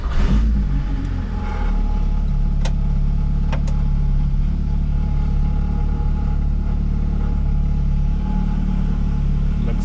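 A car's engine catches and runs after reassembly, a steady, close, low rumble that carries through the whole stretch with a few faint clicks on top.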